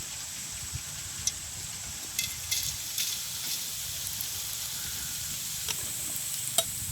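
Oil heating in a pan for frying gives a faint, steady sizzling hiss close by, broken by a few small sharp pops and crackles.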